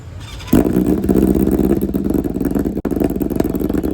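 A BMW S1000RR sport motorcycle cold-starts after sitting for two months. The engine catches abruptly and then settles into a loud, close, somewhat uneven idle with slight revving and one brief dropout.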